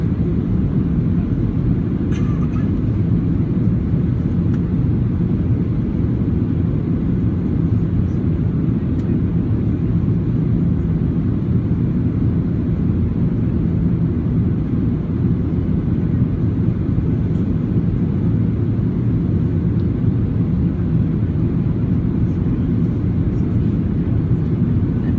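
A Ryanair Boeing 737-800 landing at Glasgow Airport gives a steady, loud broadband jet roar with heavy low rumble that holds constant throughout, with no other sounds standing out.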